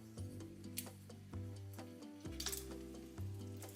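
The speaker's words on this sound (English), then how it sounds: "Once you've allowed your oil to heat up for about 45 seconds, you're gonna place your tacos." Flour tortilla tacos dorados de papa fry in hot oil with a steady, close sizzle, broken by soft ticks and clinks of the pan, and no talking.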